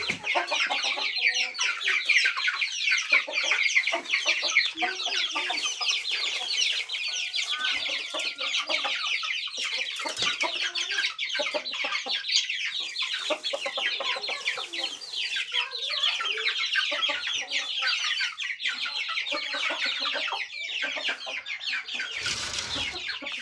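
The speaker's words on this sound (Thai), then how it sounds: "โอ้ไก่" Chickens cluck busily and continuously at close range, with layered overlapping calls and occasional louder squawks, while a person's voice faintly joins near the end.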